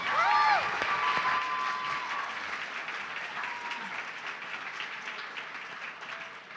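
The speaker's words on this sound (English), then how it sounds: "Let's give another round of applause for her." An audience at a live community crowdfunding event claps in a sustained round of applause that starts loud and slowly fades while remaining steady, with a faint bit of voice or cheering near the start.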